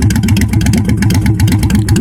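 A car engine with a newly wrapped exhaust runs at a loud, close, steady idle with a deep, rhythmic throb and no speech.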